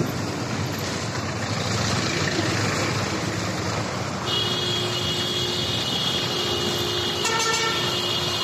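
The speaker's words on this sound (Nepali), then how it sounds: "अगाडि ट्र्याक्टर लायो" A tractor travels along the Baglung highway near Hemja village by Pokhara, making a steady, close engine drone. Horn tones join midway and hold to the end, with a short extra honk near the finish.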